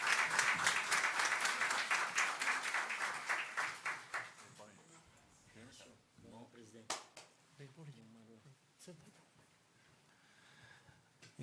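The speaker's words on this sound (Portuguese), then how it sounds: "uma salva de palmas para o Paulinho" An audience at a special plenary lecture breaks into dense, loud applause that fades away after a few seconds, leaving scattered claps and room noise.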